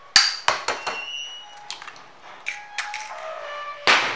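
Takoyaki batter with salt and two eggs gets mixed in a bowl, making close, irregular clinks and sharp taps with brief ringing tones, and a louder knock at the end. No voices are present.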